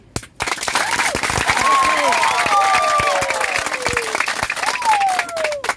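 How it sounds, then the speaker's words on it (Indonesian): Applause from an audience at a community dialogue with a human rights commission in Besipae, steady dense clapping filling the whole stretch with shouting voices and speech mixed over it. "Tepuk tangan"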